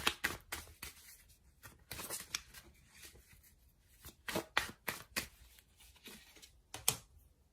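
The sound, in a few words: tarot cards being shuffled and drawn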